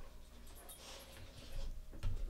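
A white pit mix and a German Shepherd pant and whimper up close, a steady breathy rasp with faint whines running over a low background.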